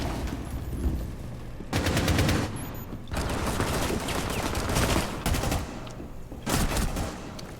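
Bursts of gunfire in the Rainbow Six Siege video game, several loud volleys separated by short gaps, sharp and close, with no voices.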